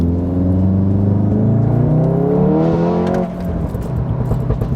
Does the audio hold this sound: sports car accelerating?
yes